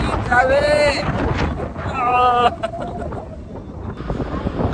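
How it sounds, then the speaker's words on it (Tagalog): Wind gusts across the open deck of the Costa Serena cruise ship, a steady rumbling rush beneath loud exclamations from a speaker. "Lakas ang hangin! Grabe!"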